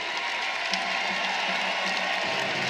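A college wrestling crowd in Ames applauds a dominant Iowa State wrestler, sustained clapping and murmuring cheers filling the arena at moderate, even volume.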